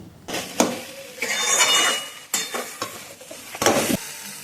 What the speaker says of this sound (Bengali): চিনিটা দেওয়ার পরে ভালো করে মিশিয়ে নিচ্ছি